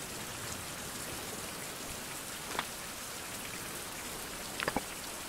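Rain falls in the video game Survival Craft as a constant, even hiss of droplets on surfaces, with a few soft clicks scattered over it.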